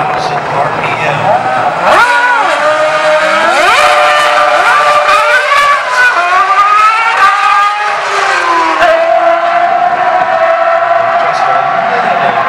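Ferrari Formula 1 car engines at Ferrari Finali Mondiali 2016 at Daytona, loud and close, revving hard with rising and falling high-pitched wails across several throttle sweeps over crowd noise.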